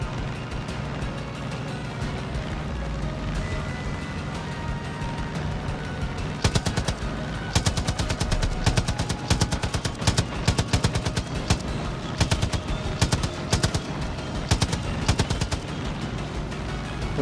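Rapid bursts of automatic gunfire in Far Cry 5 ring out loud and close, repeated volleys of sharp cracks over a rumbling engine-like background.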